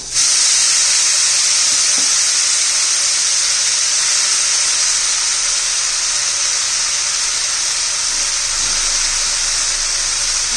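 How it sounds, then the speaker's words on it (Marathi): Leafy greens hitting hot oil for a spiced radish stir-fry, giving a loud, steady hiss and sizzle that holds evenly throughout with no talk. "आता तेलामध्ये आपली पालेभाजी घालून घेऊया"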